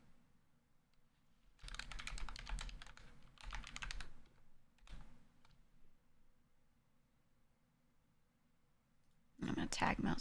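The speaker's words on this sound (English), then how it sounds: "Oh my god, I keep typing Iron Mouse with an I in it" Bursts of rapid typing on a computer keyboard come in several short runs separated by pauses, close and fairly soft, with a louder stretch of clatter at the end.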